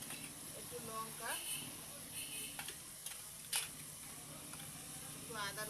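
Ginger, garlic and ground cumin fry with tomatoes, salt, turmeric and chilli in a pan, giving a faint steady sizzle with occasional stirring scrapes and ticks, under a voice talking.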